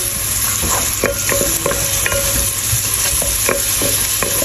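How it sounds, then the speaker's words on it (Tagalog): Ginger is sautéed in a pan, sizzling steadily up close while a utensil repeatedly scrapes and knocks against the pan as it is stirred. "Kailangan kong gisahin ang ating luya"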